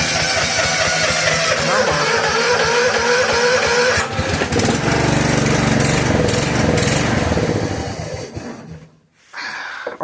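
A John Deere 130 lawn tractor engine on full choke cranks and sputters, catching briefly with a loud rough roar before dying away near the end, followed by a short burst of cranking.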